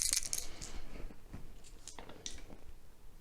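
Small dice clatter and rattle onto a tabletop during a wargame, a few quick rolling bursts that are faint and close, with no voices.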